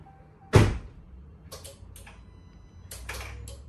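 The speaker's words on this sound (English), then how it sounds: "I'm gonna close my door." A RAM pickup truck door slams shut with one loud, close thud, followed by several lighter clicks and rattles from the cab.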